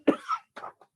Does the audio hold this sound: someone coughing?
yes